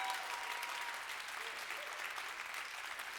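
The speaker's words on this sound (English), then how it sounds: "Clap it up for the poetry tonight." Audience at a live spoken word poetry event applauding, a quiet, fairly distant wash of steady clapping that carries on evenly for a few seconds.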